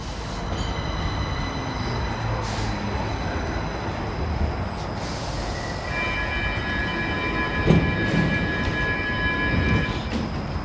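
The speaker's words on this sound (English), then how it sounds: "today we are at Kristineberg metro station" A Stockholm Green Line metro train rumbles through Kristineberg station with a continuous loud roar. High whines and wheel squeals rise over it near the end.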